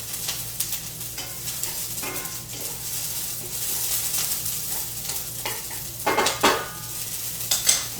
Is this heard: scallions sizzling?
yes